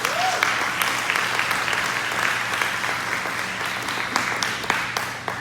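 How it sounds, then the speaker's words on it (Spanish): Church congregation giving loud sustained applause during a service, a dense wash of many hands clapping together, close and steady for the whole stretch. "Alábale y dale un fuerte aplauso al Señor"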